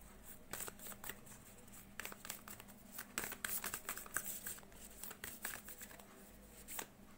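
Tarot cards being shuffled up close, a run of quick riffling snaps and soft papery flutters in uneven bursts, with no voices.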